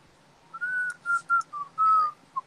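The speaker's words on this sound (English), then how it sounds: "don't whistle that song, please" A person whistles a tune in clear, pure notes, a few sustained tones followed by shorter ones with brief gaps, close and alone with no talking.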